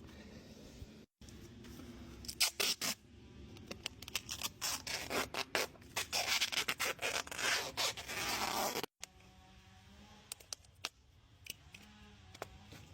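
Tape is pulled and wrapped around a refrigerant line, giving a run of close, quiet rasping and ripping strips with brief pauses, then a few scattered small clicks and rubs.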